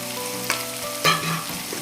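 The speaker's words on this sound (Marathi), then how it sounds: "एक दोन मिनटं हे छान परतून झालं आहे" Green masala with turmeric sautéing in a hot pan, a steady soft sizzle and frying crackle with a couple of brief stirring scrapes, close and moderately loud with no talking.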